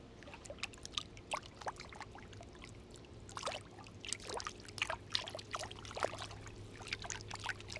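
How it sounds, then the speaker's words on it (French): Water being poured and trickling for an ASMR demonstration, faint close splashes and dribbles in irregular bursts over a low steady background hum. "je vais faire du petit ASMR d'eau"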